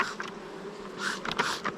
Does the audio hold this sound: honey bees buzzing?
yes